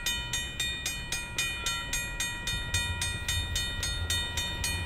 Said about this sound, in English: I love this shot of the C train going by